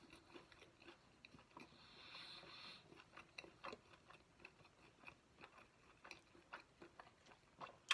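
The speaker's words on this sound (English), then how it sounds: "Showing this chewing in real time so you know it's good." Bites and chewing of a Monte Cristo sandwich on an over-toasted bagel, with soft crunches and irregular mouth clicks close to the mic, rising in a few sharper crunchy bursts, with no talking.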